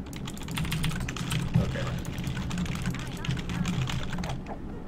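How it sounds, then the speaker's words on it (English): Rapid, uneven keystrokes on a computer keyboard clatter steadily during a game-development livestream while someone talks over them. "I ended up typing there while he was talking there."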